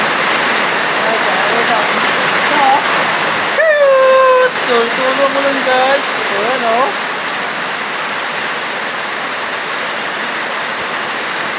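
Heavy rain pours in a continuous hiss outdoors, near and loud, with people talking over it for a few seconds before the downpour carries on alone.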